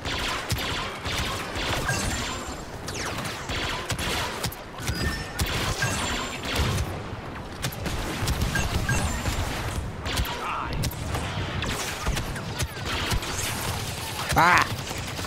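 Boba Fett's wrist rockets in Star Wars Battlefront 2 fire in busy, overlapping blasts and crashes, set against constant game action, with talk running over most of it.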